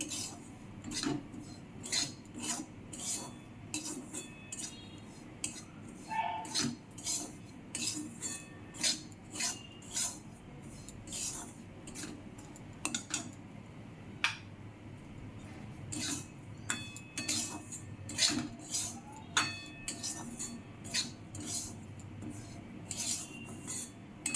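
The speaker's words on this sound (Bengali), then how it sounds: "এক কাপ সুজি সুজিটাকে ভালো করে ভেজে নিতে হবে" Semolina is dry-roasted in a pan with a utensil scraping and clinking against the metal in repeated strokes, close and moderately loud, with no talk.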